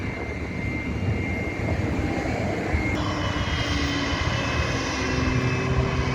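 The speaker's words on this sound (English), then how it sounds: "See that one jet that was revving up?" Jet aircraft engine revving up at McCarran Field near the Executive Terminal in Las Vegas, a steady loud roar heard from a distance with no talk.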